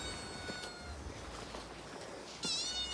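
A cat meows while being fed outdoors, short faint cries with one clearer meow near the end over steady background noise.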